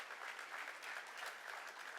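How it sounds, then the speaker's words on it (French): Applause from an audience at a religious talk, a steady dense patter of clapping throughout, fairly distant and moderate in level with no voices over it. "on peut l'applaudir."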